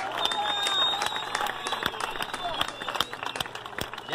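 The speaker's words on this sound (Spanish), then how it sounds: "Un aplauso para Stuart, loco, para que no digas que yo no me merezco nada." Audience applause breaks out at a rap battle final, a dense wash of clapping and crowd noise with scattered shouts running steadily throughout.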